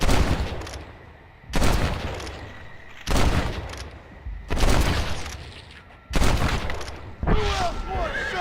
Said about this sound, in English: I can hear gunshots, which makes this so much more intriguing to do